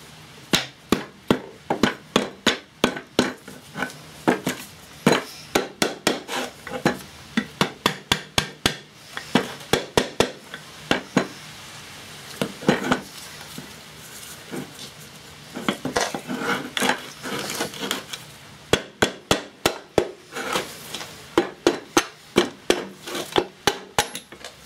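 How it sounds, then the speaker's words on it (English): Plastic hammer tapping on the cover of a 2 hp Briggs & Stratton small engine being stripped, a long run of sharp, close knocks in quick bursts and steady rhythmic series, with short pauses between the groups. "our cover should come off with a light tap of the plastic hammer"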